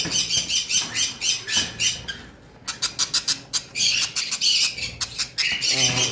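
Japanese budgerigars, including yellow double-factor birds, and lovebirds at a bird farm give a busy chorus of rapid chattering squawks and sharp chirps, close and overlapping, with brief lulls between bursts.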